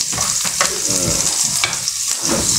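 Sliced onion hitting hot cooking oil on a table-top setup, a close, bright sizzle with spattering crackles and a few soft clinks, while a voice briefly speaks.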